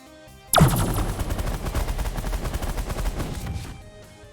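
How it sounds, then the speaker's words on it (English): Minigun fire in the space strategy game The Last Federation starts abruptly and rattles in a rapid, continuous stream of shots for about three seconds before tapering off. It is loud and up close, with no talking. "My minigun is still the best option here."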